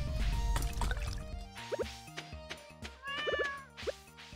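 A watering can being refilled in the Stardew Valley video game, with a few short, bubbly watery blips and pops set against faint background music, quiet and brief, with no voices.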